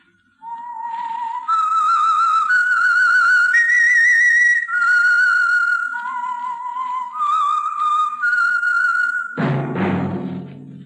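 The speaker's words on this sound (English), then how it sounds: "That whistle is your signal for the Signal Oil Program, The Whistler." A whistled signal tune for The Whistler radio program, a clear melodic whistle of sustained, gliding notes lasting several seconds, alone and prominent, followed by an abrupt burst of a different sound at the end.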